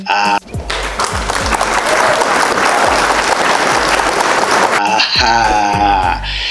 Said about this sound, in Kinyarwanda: reke tubanze tumukubita amashyi menshi cyane y'urufaye